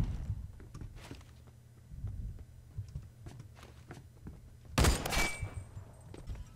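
Gunfire in a Roblox Phantom Forces game, with scattered quiet shots and thuds and one louder sharp burst near the end.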